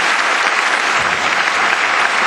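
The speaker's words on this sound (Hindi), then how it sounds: "तो प्रकटीकरण करें उस इच्छा का तालियों के द्वारा।" Loud, dense applause fills an auditorium as the audience claps continuously at a cultural programme, a thick even roar of many hands close by with no pauses.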